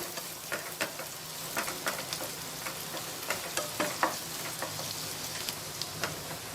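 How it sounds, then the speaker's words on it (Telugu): Green chillies frying in a pan for a restaurant-style chicken dish give a steady, close sizzle dotted with sharp crackles and pops, heard alone with no talking. "ఫస్ట్ గ్రీన్ చిల్లీస్ వేసుకొని కొద్దిసేపు ఫ్రై చేసుకున్నాము చిల్లీస్ని"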